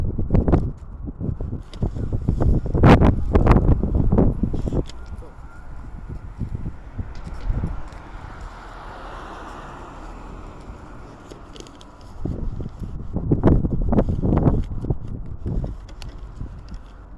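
Wind gusts buffet an outdoor microphone at a camp, rumbling and swelling in rough waves that are loud at the start and the end and calmer in between.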